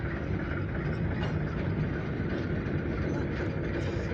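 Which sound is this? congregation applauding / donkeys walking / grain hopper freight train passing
grain hopper freight train passing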